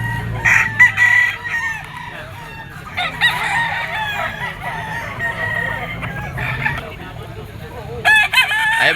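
A yellow-legged peacomb stag rooster crowing close by, several loud crows with clucking and other fowl in between, at an outdoor market.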